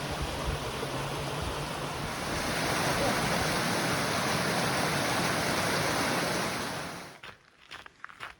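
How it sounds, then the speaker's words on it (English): A waterfall on the Appalachian Trail in New Hampshire roars as a steady broadband rush of falling water, loud and close, holding constant before cutting off abruptly near the end and leaving quieter scattered sounds. "Pretty cool waterfall."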